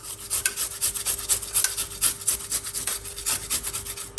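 Fresh ginger root grated by hand, a quick rhythmic rasping scrape repeating about four times a second, close and crisp, with no talk.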